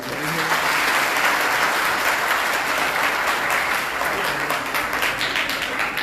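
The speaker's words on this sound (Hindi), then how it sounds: "उसके उस माँ के लिए है तो तालियां बजाइए" Steady, dense crowd applause rings out for a mother at a public event, many hands clapping loudly and continuously with no break.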